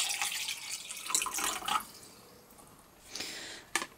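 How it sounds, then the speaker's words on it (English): Water poured from a tap or jug into a glass holding a cracked egg shell, a soft running splash for under two seconds, then a quieter trickle and a brief final splash close by. "we're going to go ahead and add some water to our glass"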